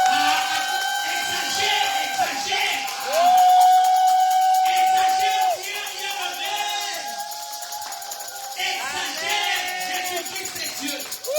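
An Easter Sunday church congregation cheers and acclaims Jesus, a large crowd shouting and whooping together in sustained waves, with a preacher's voice calling out over it.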